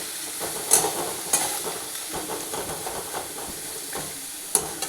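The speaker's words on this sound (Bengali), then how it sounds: "এবারে পেঁয়াজটাকে লালচে করে ভাজবো।" Onions frying in a pan for Bengali prawn posto, with a steady close sizzle and hiss broken by a few sharper crackles and stirring scrapes throughout.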